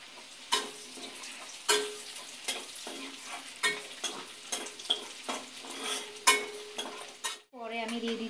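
Whole bay leaves, cinnamon, cardamom and cloves fry in hot oil, a steady close sizzle punctuated by repeated clinks and scrapes of a spoon against the pan, then a short different clatter at the end.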